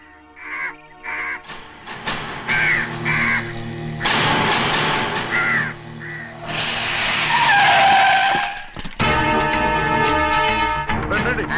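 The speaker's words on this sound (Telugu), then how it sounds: "ఈ ఏరియాలో ఒక్క కాకి కూడా ఉండాలని వీలేదు" Crows caw in short repeated calls through a loud, harsh scene dominated by screeching, skidding noise and rumbling bursts, the cawing coming in brief clusters between the louder sounds.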